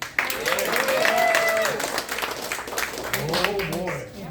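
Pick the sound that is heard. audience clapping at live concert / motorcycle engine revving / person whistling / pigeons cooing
audience clapping at live concert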